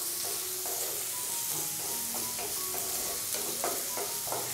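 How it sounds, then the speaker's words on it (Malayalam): Potato curry ingredients sauté over a high flame, giving a continuous moderate sizzle broken by short metallic stirring scrapes and clinks of a spoon against the pan. "ഫ്ലെയിം ഒന്ന് ഹൈയിൽ തന്നെ വെച്ച് കൊടുത്തതിന് ശേഷം നല്ല രീതിയിൽ നമുക്ക് എല്ലാം കൂടി ഒന്ന് വഴറ്റിയെടുക്കാം"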